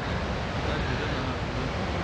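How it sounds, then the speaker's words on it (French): Strong, stormy wind buffets the microphone on a golf course, a dense, steady roar with no break across the short stretch. "Il y a un vent de malade, j'espère que vous n'entendez pas trop"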